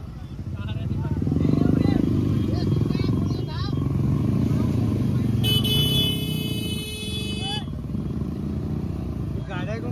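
A busy road is jammed with cars and motorcycles, with engines rumbling continuously. A sustained horn blast rings out midway among other toots while people talk nearby throughout.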